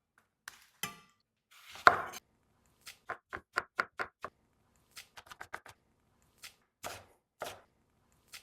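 Knife chopping tomatoes into cubes on a cutting board for fish tacos, a run of sharp, distinct knocks in an uneven rhythm, close and clear with short pauses between strokes.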